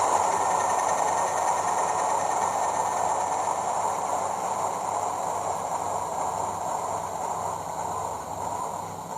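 A Bachmann Class 37 model locomotive fitted with a TTS sound decoder runs on the track, giving a steady, continuous diesel engine drone with a faint high whine, constant in level and with no voices.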